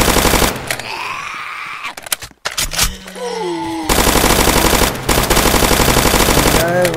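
Rapid automatic gunfire from the Roblox zombie game Zombie Uprising, loud and close, long sustained bursts broken by a short pause, with game sound effects between them and no speech.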